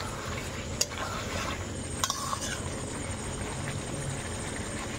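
Chicken meat for a potato chicken curry is stir-fried in a pan. It gives a constant close sizzling and scraping, with a few faint utensil clicks.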